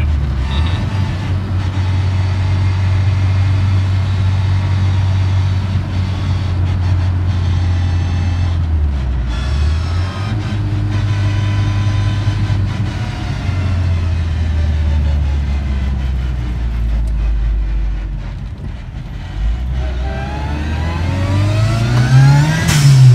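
Classic Mini Pickup with a turbocharged 1275 engine making about 145 bhp pulls away under load, a loud, steady mid-pitched engine drone holding level before rising in pitch as it accelerates hard at the end, heard alone.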